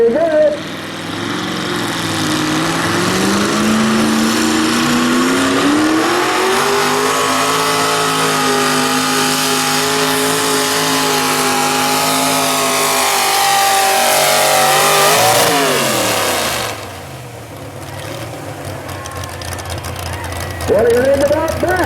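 A pulling tractor's engine roars and revs hard at a tractor pull, close and loud, as it drags the sled. The pitch climbs and holds in a sustained howl, then drops off sharply, and voices can be heard beneath it.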